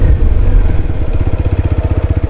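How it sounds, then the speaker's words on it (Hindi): A TVS Apache RTR 160 4V RM Special Edition motorcycle is ridden and braked from about 50 km/h. Its engine chugs loud and close in steady, pulsing beats that become more distinct as it slows. "अगर ब्रेक वगैरह का भी ध्यान दे तो ब्रेक मार के देखते हैं एक बार 50"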